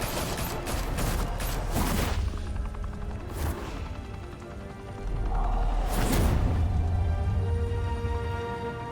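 Gunfire in Batman: The Telltale Series, a few loud broadband bursts and crashing blasts, a cluster early on and another heavy volley later, over a low rumbling game backdrop.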